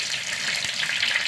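Dried red chilies fry and splutter in hot oil with fenugreek and mustard seeds, giving a steady close crackling hiss that runs without a break and with no voices.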